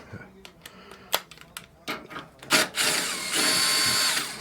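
A Klein handheld socket driver used during a furnace repair, heard as a run of sharp metallic clicks and knocks followed by a sustained whirring, grinding drive sound, with talk close by.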